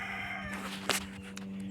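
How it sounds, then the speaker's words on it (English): A rooster crows once, faint and distant in the background, a short rising call over quiet outdoor ambience. "Got one of the roosters in the background, so you may be hearing that."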